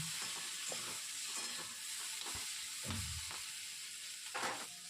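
Vegetables fry quietly in a pan beside a pot of boiling rice, a soft steady sizzle broken by several scraping stirs of a spatula, fairly faint and with no one talking.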